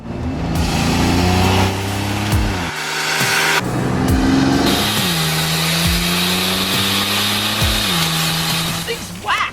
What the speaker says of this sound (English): This is the 1992 GMC Typhoon, and it's an all-wheel drive, turbocharged V6 SUV